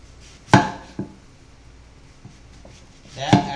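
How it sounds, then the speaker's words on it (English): Onions being chopped into rings on a cutting board: a few sharp knife knocks spaced unevenly, the last one a heavier thud, close by in a quiet kitchen. "this is a really easy way of chopping onions"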